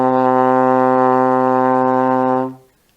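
A trombone sounds a single sustained C with the slide in sixth position, one steady held note lasting over two seconds at even loudness before stopping cleanly.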